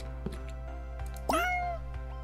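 A cat in the video game ChefRPG gives one clear, rising and falling meow while being petted, over a steady low background hum and a few soft clicks.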